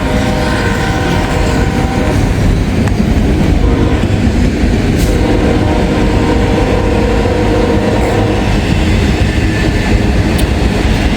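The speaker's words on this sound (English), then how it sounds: "We got a train coming, folks." A CSX freight train hauling huge stones thunders by at close range, a loud unbroken roar of wheels and rattling cars with faint squeals and a distant horn note.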